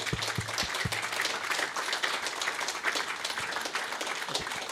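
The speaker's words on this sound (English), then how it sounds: "I think that deserves a bit of applause for what they've done there." Fans applauding at a football club forum, a modest spread of clapping in a room, fairly quiet with a few sharper claps standing out early on.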